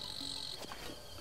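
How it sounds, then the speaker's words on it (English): Crickets chirping in The Legend of Zelda: Breath of the Wild, a faint, steady high-pitched trill running through a short quiet stretch with no talk. "If you chop the grass,"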